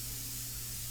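A steady, loud airbrush hiss sprays India ink onto paper continuously with no pauses.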